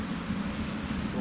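Rain falls outdoors as a constant, moderately quiet wash of noise, with a low rumbling undertone running beneath it the whole time, near a charcoal grill.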